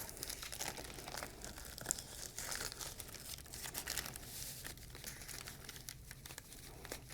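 A sterile urinary catheterization kit wrapper is unfolded by hand, giving close, soft crinkling and papery rustles in irregular bursts across several seconds.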